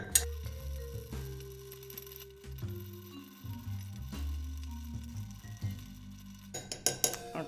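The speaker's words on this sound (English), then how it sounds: "we are going to stir this as usual for about 30-40 seconds till it's cold to the touch" Ice cubes clinking and rattling against a glass as a cocktail is stirred, a steady run of light, close clinks throughout, with a busier burst of chinks at the end.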